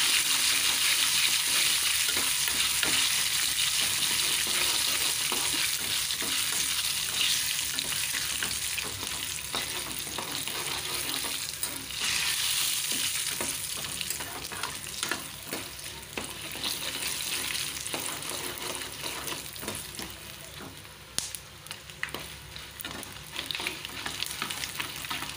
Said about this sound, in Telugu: చూస్తారు కదా పోపు కూడా చక్కగా ఎగిపోయింది